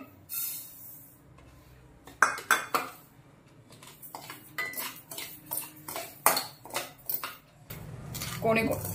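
Barnyard millet dry-roasts in a pan on a gas stove, a metal spoon scraping and clinking against the pan in irregular bursts, close by, with quieter stretches between strokes.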